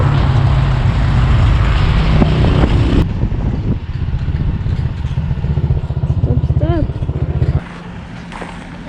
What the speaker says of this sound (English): It's a Vietnam War truck.